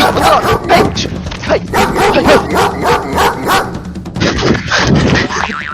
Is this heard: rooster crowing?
no